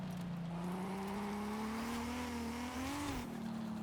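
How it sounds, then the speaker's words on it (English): A rally car with street looks and a top-line engine runs steadily nearby, its sustained drone rising slightly in pitch toward the end before settling, with no voices over it. "The top line engine does not sound that bad."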